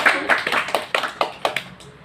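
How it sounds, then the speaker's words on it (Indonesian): A small group claps hands in a classroom group guidance session, a short burst of about nine fairly even claps, close and alone with no talk. "Bisa tepuk tangannya."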